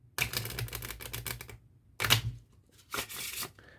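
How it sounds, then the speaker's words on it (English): A deck of playing cards is riffled and shuffled in three quick, crisp bursts separated by short pauses, close up with no talk. "we do shuffle like this."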